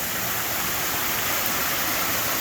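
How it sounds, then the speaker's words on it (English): A garden center waterfall pours into a series of pools, a steady, even rush of falling water heard close up with no voices. "And then we have a waterfall over here. Take you over and show you our waterfall."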